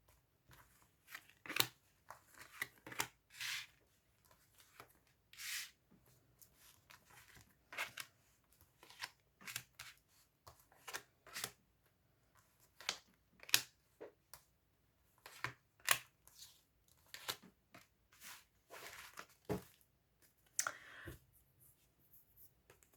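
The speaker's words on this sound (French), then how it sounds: "on va étaler les cartes et on va faire le tirage" Tarot cards being spread across a table, a faint series of soft scattered slides, taps and papery flicks in irregular bursts with quiet gaps between them.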